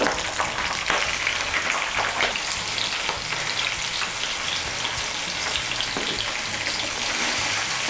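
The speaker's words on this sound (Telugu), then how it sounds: "పోపు మధ్య మధ్యలో ఇలా కలుపుకుంటే అన్నీ సమానంగా వేగుతాయి" Tempering spices sizzling and crackling in hot oil for tamarind rice pulihora, a loud steady fry close by with faint scraping as the pan is stirred.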